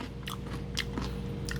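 Crisp, wet crunching bites repeat a few times close up, chewing crunchy Korean pickled radish and flatfish side dish (gajami-sikhae), over a low steady hum.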